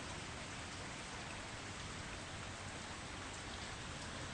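Dense, continuous roar of heavy rain pouring down, steady and unbroken throughout with no voices.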